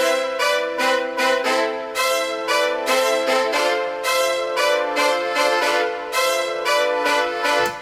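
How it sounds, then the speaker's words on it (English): Layered brass trumpets blare through a loud, energetic peak section of a song, with sustained stacked horn chords and rhythmic accents running throughout, no voices. "If I combine the new trumpets with the older ones, it sounds like this."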